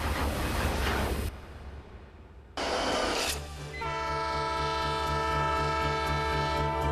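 The Spirit of Oregon, an old steam train, passes through Oregon's coastal mountains with loud rumbling, then a sustained horn blast that holds for several seconds over the running noise.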